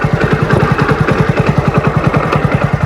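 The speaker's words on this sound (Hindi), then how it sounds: "ये जो कट कट की आवाज़ आ रही है ना, इससे हमारी बाइक जो है ना वो बंद हो जाती है।" A motorcycle engine runs at low revs up close, chugging with a fast, uneven putter that stutters and sputters, close to stalling.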